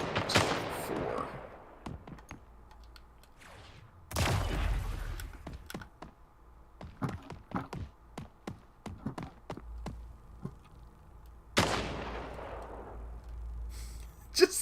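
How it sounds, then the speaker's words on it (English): Sporadic gunfire in the Splitgate video game: three sharp, echoing shots a few seconds apart, each with a long fading tail, separated by scattered faint clicks and taps. "the sporadic bullets flying"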